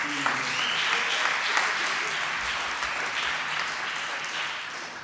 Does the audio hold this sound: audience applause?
yes